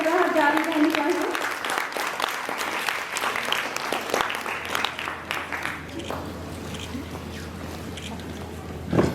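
Loud applause from an audience at a philatelic stamp exhibition prize ceremony as a winner is called to the stage, dense clapping that thins and softens toward the end, with a voice briefly heard near the start.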